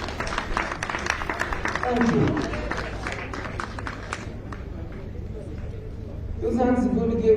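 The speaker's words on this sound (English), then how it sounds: "Shall we clap for the arrival of the Vice President?" Crowd applause at an outdoor independence day celebration in Kitgum greeting the Vice President's arrival, a steady patter of clapping with voices over it, fading before a brief spoken thanks and then a swell of louder sound.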